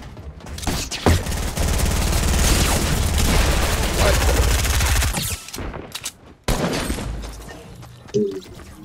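Gunshots in the video game Fortnite keep up a dense, loud fusillade for about five seconds, overlapping with explosions and debris, then thin into a few scattered shots as a voice briefly speaks.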